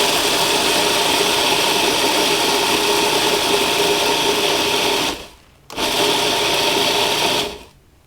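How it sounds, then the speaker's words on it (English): An old food processor whirs loudly while blending vegan gluten-free lemon cake batter, running steadily with a brief pause before starting again and then stopping. "I've got this really old food processor, which I've had forever. And are you ready? It's going to be noisy."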